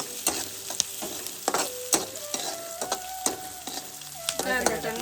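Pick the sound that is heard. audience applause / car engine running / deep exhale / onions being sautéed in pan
onions being sautéed in pan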